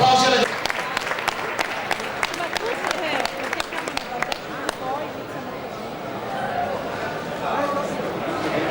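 Outdoor applause at a cyclocross awards ceremony, sharp individual claps standing out early before thinning into a softer crowd murmur, with an announcer speaking over it.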